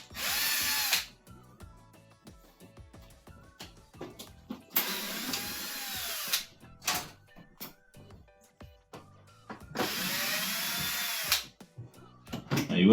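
Power drill backing screws out of a Maytag, Whirlpool or KitchenAid dishwasher during a repair, three loud whirring bursts of a few seconds each separated by quiet clicks and handling noises.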